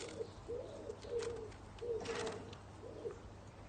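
A pet bird coos softly in a series of five low, rounded calls spaced about half a second apart, faint and close, with no talking.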